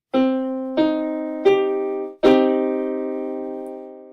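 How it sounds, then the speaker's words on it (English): Piano notes of a minor triad played one at a time, three separate tones rising, then all three struck together as a sustained chord that rings and slowly fades. "A minor triad sounds like this."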